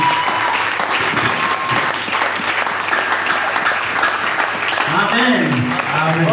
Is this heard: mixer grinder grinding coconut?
no